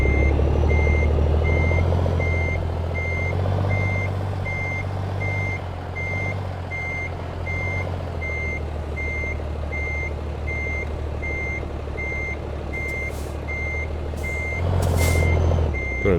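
A truck backing up in American Truck Simulator sends out steady, evenly spaced reversing beeps over a continuous low engine drone, then a burst of air-brake hiss near the end, with no talking.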